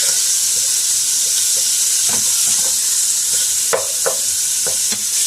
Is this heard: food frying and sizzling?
yes